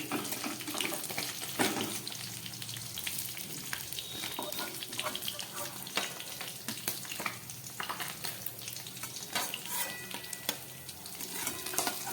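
Fish frying in oil over a low gas flame, with a dense, continuous crackling sizzle and scattered sharp pops throughout, close and fairly loud, with no talk.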